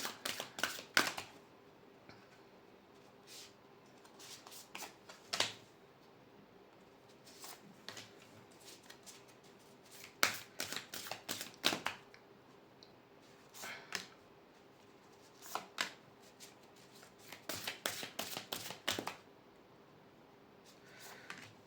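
Tarot cards pulled and shuffled from a deck during a candle wax reading, giving repeated short papery flicks and riffles in clustered bursts, close and fairly quiet, with no talking.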